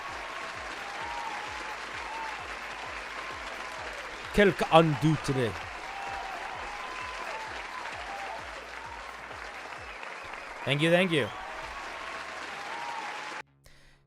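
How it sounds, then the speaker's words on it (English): Applause from a live stream audience, two short bursts of clapping about a second long each, laid over steady background sound, with a person speaking briefly in between. "let's give him a round of applause."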